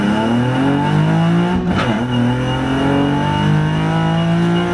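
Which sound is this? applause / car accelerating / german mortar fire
car accelerating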